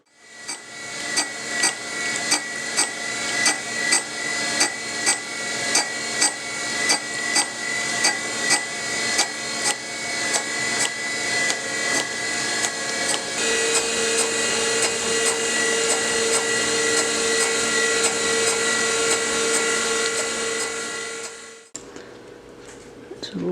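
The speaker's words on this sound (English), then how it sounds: "and grind the other side." Grinding a shaper cutting tool in a machine shop: a loud, continuous abrasive grind with rhythmic repeating pulses through most of the clip, shifting tone partway and cutting off briefly near the end.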